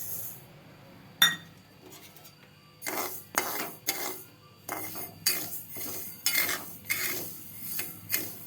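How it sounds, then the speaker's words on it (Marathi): Poppy seeds and cashews dry roasting in a pan, with repeated scraping and stirring strokes of a spoon against the metal and a sharp clink near the start, close and fairly quiet. "तर आपण हे थोडेसे भाजून घेणार आहे, एकदम थोडं थोडं भाजून घेणार आहे"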